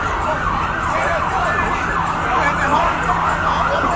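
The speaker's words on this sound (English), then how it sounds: "You have the ambulance coming." Wailing police and ambulance sirens at a street protest in Atlanta, loud and close, with a steady cycling wail over constant road and crowd rumble.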